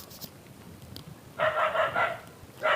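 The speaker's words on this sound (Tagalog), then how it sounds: "Daming dogs dito." Several dogs bark in a burst of overlapping, mid-loud calls after a quieter stretch of background noise, with another bark starting at the end.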